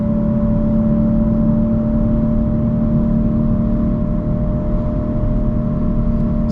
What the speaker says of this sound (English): Time to push on that gas pedal